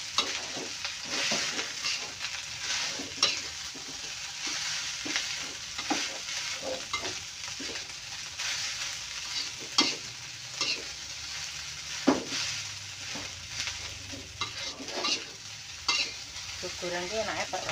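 Javanese fried rice stir-fried in a pan, with continuous close sizzling and frying under repeated scraping and stirring clatters from a utensil, steady and busy throughout.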